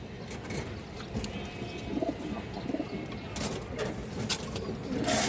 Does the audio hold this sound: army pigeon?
yes